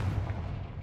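A Confringo blasting spell goes off in Hogwarts Legacy as a short, muffled, low boom with a rumbling, explosive body, heard alone.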